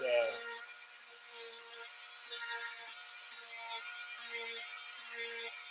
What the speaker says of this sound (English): I'm going to take my Dremel here since I kind of got it roughed out and kind of smooth out these